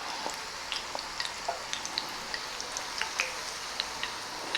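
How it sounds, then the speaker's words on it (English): A Diwali snack frying in a pan, with close, steady sizzling scattered with sharp little pops and spits throughout. "We're just going to fry this, not for too long, just about 30 to 45 seconds on each side."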